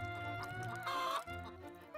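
Barnyard chickens cluck in quick, uneven bursts while a rooster gives a short crowing call near the middle; the sound is faint, near, and free of talk.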